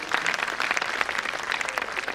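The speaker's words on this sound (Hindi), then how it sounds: "जोरदार तालियां आपके लिए भी" Loud, sustained audience applause at a national seminar inauguration, a dense steady patter of many hands clapping with no voices over it.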